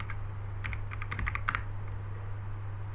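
Fingers tap out a short burst of keystrokes on a computer keyboard, a quick irregular run of clicks up close over a steady low hum, followed by quiet.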